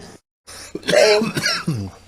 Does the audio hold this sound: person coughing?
yes